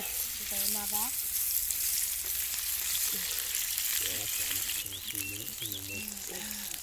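Potatoes frying in a pan over an outdoor campfire in a forest, giving a bright continuous sizzle close by while voices talk over it at intervals.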